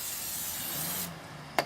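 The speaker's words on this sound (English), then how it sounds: "Grab my aerosol cleaner," A short hissing burst of aerosol cleaner sprayed onto a car body panel during scratch repair prep, followed by a quieter pause and a brief sharp click.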